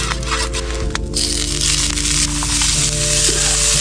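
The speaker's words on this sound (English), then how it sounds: "yellow onions, and chives frying in a little butter and oil" Bacon chunks, green onions, yellow onions and chives frying in butter and oil over a wilderness campfire, a close, steady sizzle with a few clattering stirs early on.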